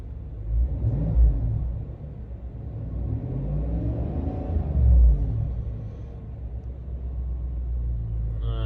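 A 2024 GMC Sierra 1500 AT4X 6.2L V8 with factory exhaust in normal mode idling low and deep, rising into a couple of throaty revs and settling back, rumbling close by with no talking.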